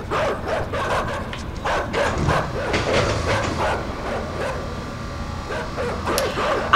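Dogs bark in the side-scrolling puzzle platformer INSIDE, a steady run of sharp barks over a dense, rumbling game soundscape that stays fairly loud throughout.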